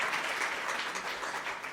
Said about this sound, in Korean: 박수로 한번 뜨겁게